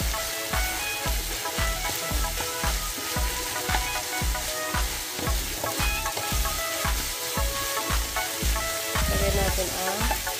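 Garlic and onion sautéing in a pan, a steady close sizzle and frying crackle with regular rhythmic stirring scrapes, no talk.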